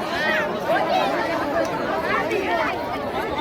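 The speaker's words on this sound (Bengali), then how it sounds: "এখানে প্রচুর ভিড়, প্রচুর লোক এখানে" A busy crowd gathered at a small railway station, a continuous murmur of many overlapping voices chattering close by, steady and fairly loud throughout.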